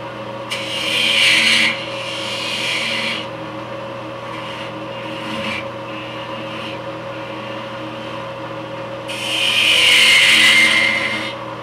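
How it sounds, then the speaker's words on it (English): A spindle gouge cuts a wooden spinning top on a lathe, then parts it off, giving bursts of raspy scraping over a steady motor hum, loudest at the start and again near the end. "I'm going to take my spindle gouge, I'm going to do a half bead here on the end, and I'm going to part this right off the machine."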